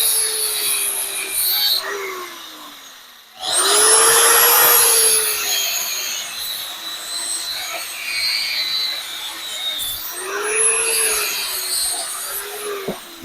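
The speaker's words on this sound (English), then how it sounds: "take this little grinding wheel and get it set up real good, or just hold" Small handheld grinding wheel cutting through copper scrap, a steady close whine with rising and falling pitch as the cut bites, surging louder in the middle, with no talk over it.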